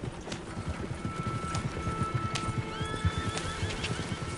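Horse galloping in Red Dead Redemption 2, rapid close hoofbeats pounding in a steady rhythm alongside neighing and whinnying calls, loud and continuous throughout.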